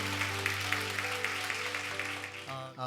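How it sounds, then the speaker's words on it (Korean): A church congregation claps together in a steady patter over a sustained organ-like tone, fading out near the end as the chord shifts. "우리 한번 하나님께 감사의 박수를 드리겠습니다."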